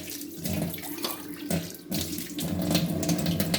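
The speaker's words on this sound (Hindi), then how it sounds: "तुलसी के पत्ते वॉश कर लेंगे" Tulsi (holy basil) leaves rinsed under a running kitchen tap, a steady close splash of water whose tone shifts as the leaves are moved through the stream.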